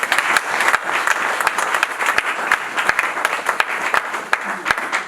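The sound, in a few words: church congregation applauding and cheering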